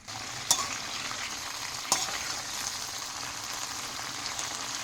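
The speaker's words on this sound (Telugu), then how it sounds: "సో తడి లేకుండా ఆరిన తర్వాత బాగా వేయించుకోవాలన్నమాట" Green chillies frying in a pan make a steady, close sizzle with two sharp stirring scrapes against the metal, and no talk over it.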